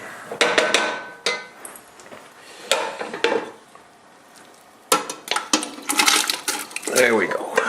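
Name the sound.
parsnips, onions, garlic, celery, carrots dumped into a soup pot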